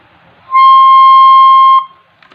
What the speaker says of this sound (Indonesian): Sedangkan nada do yang tinggi bunyinya seperti ini.